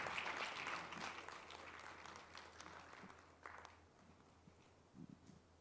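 Summit audience applause greeting a speaker, a broad crowd clapping that is strong at first and then thins and fades, leaving a few scattered claps near the end.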